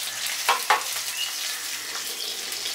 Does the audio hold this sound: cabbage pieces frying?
yes